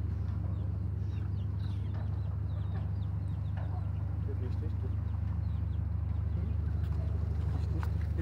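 Chickens cluck and call faintly on a rooftop farm atop a four-storey building, scattered short calls over a steady low hum with occasional voices nearby.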